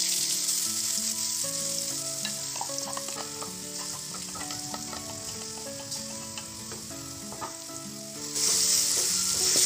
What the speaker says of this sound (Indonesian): Bumbu akan saya goreng sampai matang.